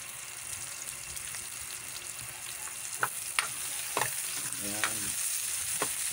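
Garlic and onion sautéing together in a pan for chicken afritada give a steady close sizzle with occasional light clicks of a utensil, and a brief word is spoken over it.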